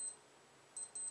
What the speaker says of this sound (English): my timer's going off.